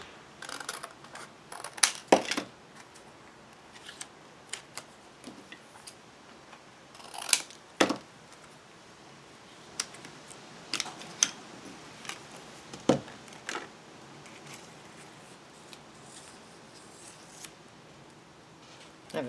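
Scissors snip through a small paper tag in a quiet room: a handful of sharp, faint-to-moderate cuts come in irregular clusters with long pauses between them.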